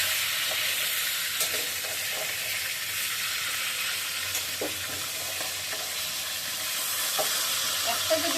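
Fish sizzling and frying in a pan at home, two pieces turned over together, a steady close hiss with faint clicks from the pan.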